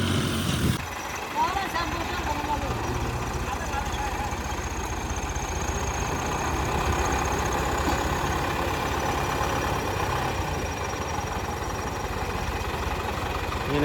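A Başak 75-horsepower tractor engine works in a muddy field while loading bales, a deep continuous rumbling idle with a knocking throb, close and steady, with voices talking over it.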